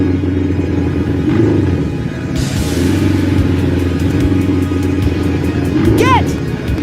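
Monster truck engines rumble at the starting line of a race, a loud continuous low drone with a brief rising rev, under excited announcer-style talk.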